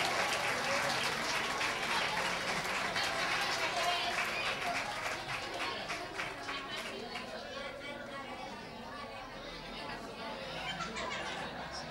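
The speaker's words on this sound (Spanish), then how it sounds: "Le damos todo un fuerte aplauso allá, el más chico, un fuerte aplauso." At a summer campus closing ceremony in Rota, an audience gives sustained applause for the youngest child, steady clapping mixed with crowd chatter and a little laughter, holding strong throughout.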